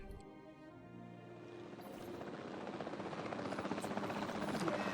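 Helicopter in the video game Jurassic World Evolution 2, a steady rotor drone with buzzing engine tone that grows slightly louder over five seconds, with no talk.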